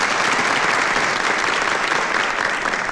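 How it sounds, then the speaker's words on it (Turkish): A studio audience applauds on a television show, a dense, steady clatter of many hands clapping loudly and continuously with no voices over it. "Evet, Melih'i alkışlıyoruz."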